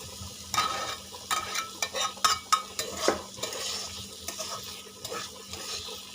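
Pumpkin peel paste frying in oil, a steady sizzle broken by repeated scraping stirs of a spatula against the pan, close and fairly loud with no talking.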